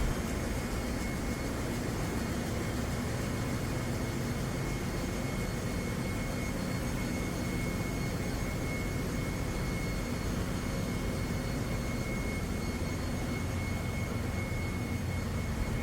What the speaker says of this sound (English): Here we are, the powerhouse of Lignum Nexus, the engine room.